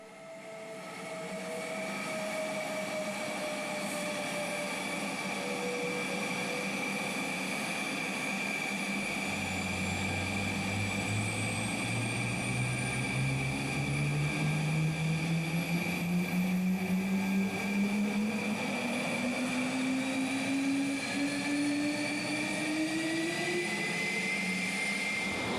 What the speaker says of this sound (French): Les moteurs M88 nous font entendre des sons impressionnants dès leur premier tour de fan.